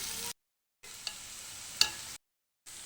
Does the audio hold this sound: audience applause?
no